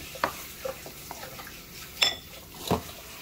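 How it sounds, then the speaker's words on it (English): An egg being stirred into a mixture in a bowl at home, with a few scattered clinks and scrapes of utensil against the bowl, fairly close but quiet between the knocks. "So, let me mix it in"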